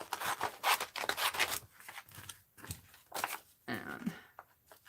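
Scissors cut a paper snowflake in short snipping bursts, close and crisp, with slicing strokes and paper rustle between cuts for a craft project.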